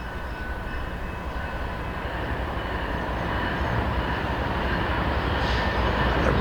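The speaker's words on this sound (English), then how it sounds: "is our freight train we've been waiting for, BNSF, Main 2, the center track, eastbound towards Chicago." BNSF eastbound freight train on the center main track rolling through a Naperville crossing, a loud, steady rumble and wheel roar that builds gradually as it passes close by.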